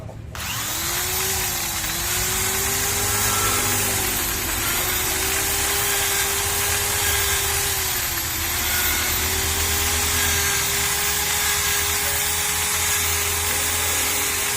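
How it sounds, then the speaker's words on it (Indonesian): A power drill with a 2 mm bit whines at a steady high pitch, cleaning out a clogged Rinnai gas stove burner, running continuously and loud with slight wavers in speed, close by and without any voices. "Ini kita pakai mata bor ukuran 2 mili. Jadi kita akan bor biar kotorannya hilang semua."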